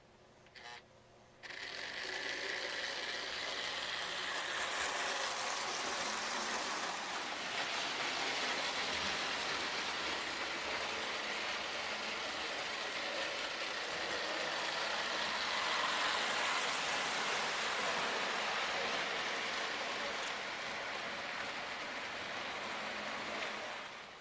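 A 1939 American Flyer O gauge Mountain Red Ball double-header, two sheet metal locomotives with one unpowered, runs steadily around the track with a continuous close rattling, clattering roar after a brief start, no voices.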